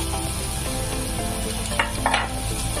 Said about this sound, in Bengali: গাজরটা দিয়ে আমি একটু নাড়িয়ে নেবো 2 মিনিট মতো।